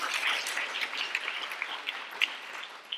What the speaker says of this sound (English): Can we get another round of applause for Narbada?